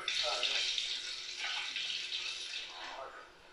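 Water runs steadily from a tap in a shared bathroom, a broad continuous rush with slight surges and dips, close and fairly loud, continuing alone throughout.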